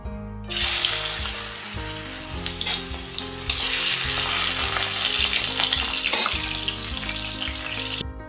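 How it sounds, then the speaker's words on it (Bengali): Shrimp rubbed with salt and turmeric fry in hot mustard oil in a kadai, giving a loud, close, continuous sizzle with occasional crackles and pops. "এবার আমি চিংড়ি মাছগুলো ভেজে নেব"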